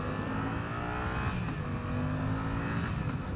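A 2017 Yamaha FZ-07 motorcycle engine and exhaust accelerate in a close, continuous pull with rising revs, steady and prominent with no talking.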